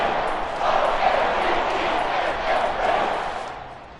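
A stadium crowd roars in the Madden football video game during a Baltimore Ravens home game just before halftime, a dense, steady wall of cheering that holds for several seconds and then eases slightly.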